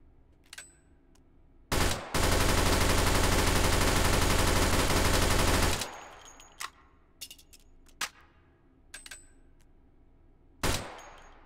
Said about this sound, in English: let's hear how it sounds without the suppressor